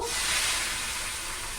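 A steady, loud hiss of potato slices frying in hot oil fills the clip, continuous and close, with no voices.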